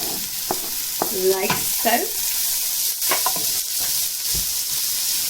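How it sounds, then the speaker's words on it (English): Chilies, ginger and garlic frying in a pan with onions: a steady, close sizzle with occasional stirring scrapes, while a person speaks briefly over it. "let that lightly fry"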